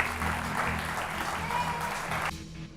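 Dense, loud applause from a large gathering welcoming the well-known kathavachak Aniruddhacharya Ji Maharaj, steady throughout before cutting off abruptly near the end.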